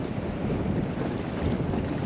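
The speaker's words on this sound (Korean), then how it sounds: "지금 12시 반 정도 되니까 바람이 또 터졌습니다" Strong wind blows across a fishing boat at sea off Uljin on Korea's East Sea coast during spring flatfish fishing, a constant rough roar close to the microphone with no voices.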